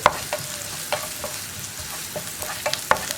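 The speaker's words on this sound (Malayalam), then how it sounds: "മഞ്ഞൾപ്പൊടി ചേർത്ത് നന്നായിട്ടൊന്ന് ഇളക്കുക." A spoon stirring drumstick leaves and green gram with turmeric powder in a pan, giving soft scraping and a few sharp clinks over a faint steady sizzle, close up with no talk.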